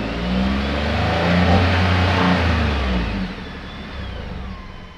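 A 2021 Ford F-150 PowerBoost hybrid pickup revs hard, heard from outside, a loud throaty exhaust roar that swells and then eases back toward idle.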